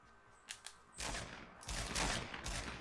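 Gunfire in a Fortnite Battle Royale match, coming from another player: a couple of short, fairly distant shots, then heavier sustained bursts of rapid fire that grow louder, with no talking.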